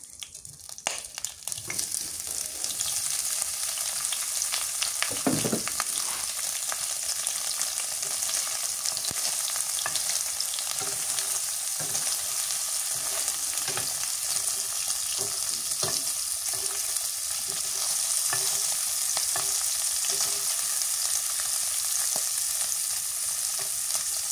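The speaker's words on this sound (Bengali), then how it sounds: "তেল গরম হচ্ছে, এখন ডিম দিয়ে দিই।" Eggs sizzle and crackle steadily in hot oil in a pan, a loud continuous frying hiss with scattered pops and brief stirring scrapes, no voices.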